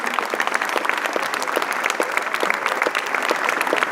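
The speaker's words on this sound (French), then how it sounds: "Il mérite plus d'applaudissements encore" Crowd applause at the Exporose 2019 award ceremony in Grasse, made of distinct, rapid individual claps forming a steady, moderately loud patter from start to finish.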